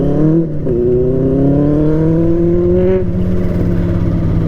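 A vehicle engine fitted with a full aftermarket exhaust system revs hard and loud, holding a steady droning roar that climbs slightly in pitch, close by throughout.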